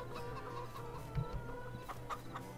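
Chickens cluck softly and intermittently in Farming Simulator 22, against a quiet, steady ambient hum, with a few brief louder clucks scattered through.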